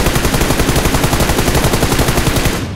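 Rapid automatic gunfire from an MK rifle in the PUBG Mobile shooter game: a loud, dense string of evenly spaced shots close by, firing steadily for nearly three seconds before cutting off.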